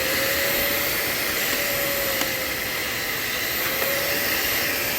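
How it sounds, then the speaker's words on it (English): A Eureka bagless canister vacuum cleaner running steadily, a continuous airy roar with a faint whine, close and unchanging, with no voices. "I'm just going to turn that on and let you listen to how nice this vacuum works"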